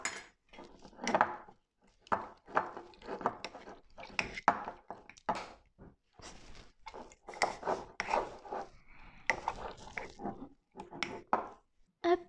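A spoon is worked by hand through thick homemade peanut butter chocolate spread in a bowl, giving a steady run of close scraping, clinking strokes with brief pauses between bursts.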